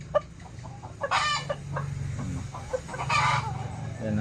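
Wild chickens cluck and call close by in a short burst of overlapping cackles, with a couple of louder squawks standing out above a low rustling background.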